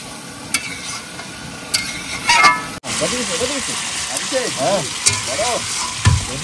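Meat stirred and fried in a pan sizzles steadily, with intermittent scraping and stirring, while people talk in the background.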